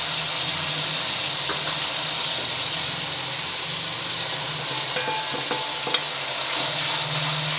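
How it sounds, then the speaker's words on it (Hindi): Tomatoes and capsicum frying in a pan after garlic-ginger paste, a steady loud sizzle with hissing steam and a few light clinks of stirring, no voices. "मिर्चा टमाटर को 10 से 15 मिनट तक भूनेंगे।"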